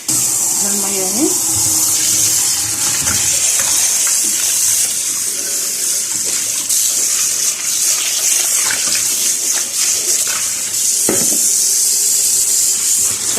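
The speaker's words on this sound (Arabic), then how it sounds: "انا قعدتها نص ساعه وهغسلها تاني وهحطها تاني في ميه نضيفه" Tuna fish being rinsed by hand in a basin of clean water, with steady splashing and sloshing throughout, close and fairly loud, broken by occasional rubbing and a few clinks.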